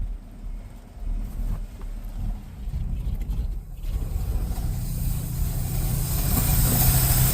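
Ford F350 dump truck engine running after being brought back from disrepair, a steady low rumbling idle with rough uneven texture, rising slightly in intensity toward the end, heard on its own without talk.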